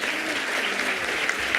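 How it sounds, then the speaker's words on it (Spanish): Applause from a university conference audience in Jalisco, a dense, steady clatter of many hands clapping at once, held evenly through the whole short stretch with no voices over it. "Y con esto agradecemos con un fuerte aplauso la conferencia."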